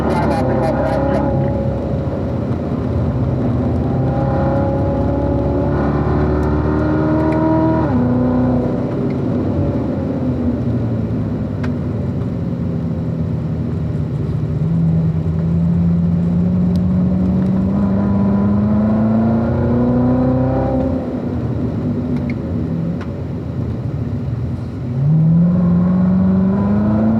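A car drives a lap at the Spring Mountain racetrack, its engine loud and close, pitch climbing and falling as it accelerates, shifts and accelerates again, with a voice speaking over it.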